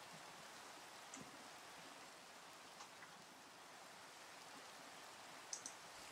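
Soft, steady rainfall in Minecraft, a continuous faint hiss of falling drops with a few tiny taps, alone without any voices.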